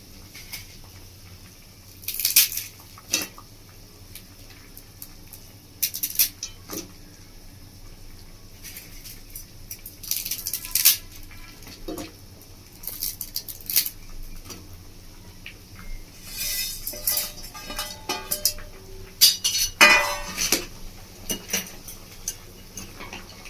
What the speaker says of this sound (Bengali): তো ম্যাগিগুলোকে আমি হাত দিয়ে ভাবে চেপে এর মধ্যে দিয়ে দিচ্ছি ভালো।